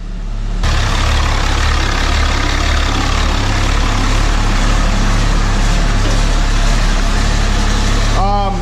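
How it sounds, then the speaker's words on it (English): A Cummins diesel drag truck engine runs at a steady idle, a loud low rumble with a deep throbbing hum throughout, and a brief voice near the end. "So the truck runs, no issues."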